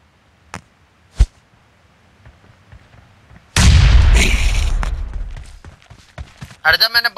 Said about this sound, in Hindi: मैंने बम फेंका